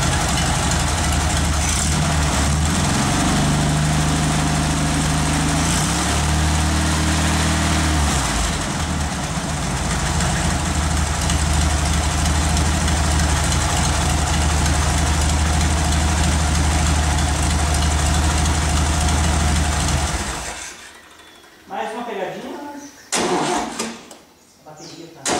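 An air-cooled Volkswagen Beetle engine idles loudly and steadily with a rough, throbbing rumble, then cuts off, followed by brief talking nearby.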